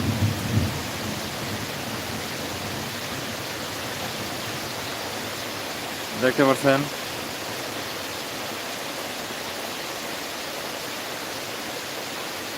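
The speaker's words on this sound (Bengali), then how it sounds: "প্রচুর বৃষ্টি হচ্ছে" Steady, dense roar of heavy rain pouring down onto a pond, with a brief spoken phrase near the middle and a short burst at the start.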